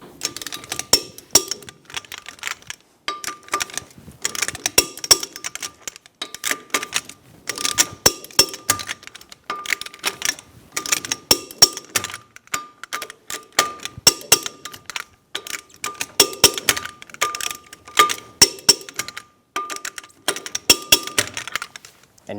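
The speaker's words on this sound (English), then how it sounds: "Torque the lug nuts to 94 foot-pounds in a cross pattern." A torque wrench tightens lug nuts on a 2000-2007 Ford Focus wheel, producing a long series of sharp metallic clicks and ratcheting ticks in irregular bursts, close and clear with no talking.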